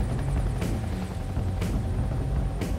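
A helicopter near a destroyer deck gives a loud, continuous rotor thump and turbine roar. Sharp blade slaps recur about once a second over the steady drone, and no voices are heard.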